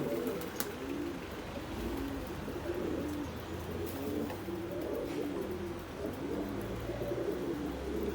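White Baghdadi pigeons cooing in a warm coop, repeated low rolling coos layered over one another at close range against a constant background hum, with a few faint chirps.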